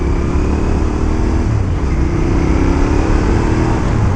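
A motorcycle engine with a baffle fitted in its second-hand exhaust runs at a steady loud idle, a dense continuous low rumble with no talk.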